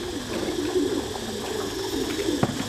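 Pigeons at a pigeon farm coo in soft, low, repeated rolling calls, several birds overlapping close by against a steady background hum.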